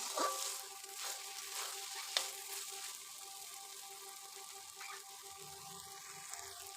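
Lote fish fries quietly in a pan, giving a faint, even sizzle with a couple of small clinks and pops; no one speaks.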